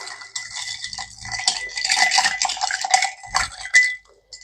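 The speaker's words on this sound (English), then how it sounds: "we're just going to stir to chill and dilute" A bar spoon stirs a Sherry Cobbler cocktail over ice, giving a steady close rattle and clinking of ice against the glass that ends in a couple of sharper knocks.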